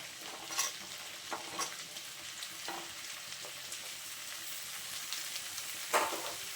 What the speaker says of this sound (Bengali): আলুটা বেশ কিছুক্ষণ ভেজে নেওয়ার পর এখন দিয়ে দেবো কেটে রাখা কাঁঠালের বীজগুলো।